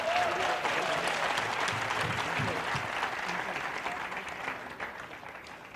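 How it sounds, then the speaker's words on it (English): An audience at a national quiz final bursts into loud, dense applause with scattered cheers, starting strong and gradually tapering over several seconds. "Audience, you got to cheer, yeah?"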